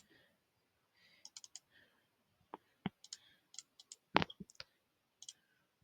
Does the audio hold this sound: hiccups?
no